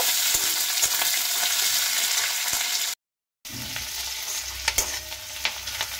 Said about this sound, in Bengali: একদম কুচি করে নিয়েছি পেঁয়াজ। পেঁয়াজটা দিয়ে দিচ্ছি। পেঁয়াজটা ভেজে নেব।